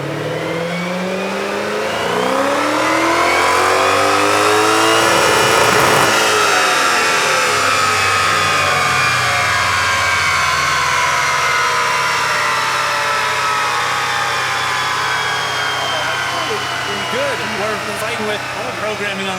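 A Ford Coyote car engine on a dyno, revving hard with rising and falling pitch sweeps, loud and sustained across the whole stretch, with speech over the roar.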